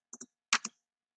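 Typing on a computer keyboard on a Windows PC: four quiet, crisp key clicks in two quick pairs, with silence before and after.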